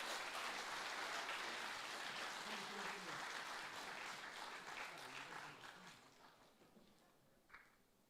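Audience applause for Tribal Experiences dancers at an official opening event, a loud sustained crowd clapping that gradually thins and fades toward the end, with a few scattered claps and faint voices.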